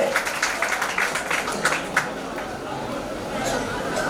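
An audience at a full-moon religious gathering at an ashram in Mota Varachha, Surat, claps for donors. Scattered, moderate applause runs under a murmur of crowd chatter and fades after a couple of seconds.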